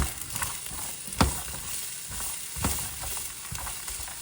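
Fried rice ingredients sizzle steadily in a hot pan while a utensil stirs and scrapes them around, with a few sharper clacks against the pan rising over the constant frying hiss.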